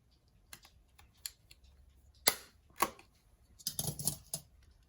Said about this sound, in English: I'm just going to use a standard hole punch like you can get in any office supply store